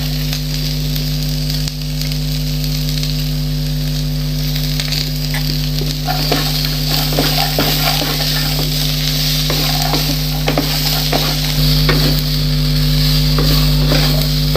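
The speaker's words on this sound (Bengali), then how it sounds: "এখন আমি মটরশুঁটিটা দিয়ে আর একটু ভেজে নেব।" Potatoes and green peas fry in a wok with turmeric, giving a constant close sizzle broken by frequent scraping stirs that grow busier toward the end, over a steady low hum.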